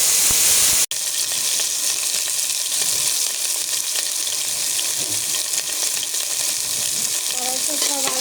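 Potato pieces fry in hot oil in a wok after fish, giving a loud, continuous close-up sizzle with occasional stirring scrapes.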